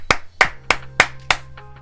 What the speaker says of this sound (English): a round of applause for Beastly Force!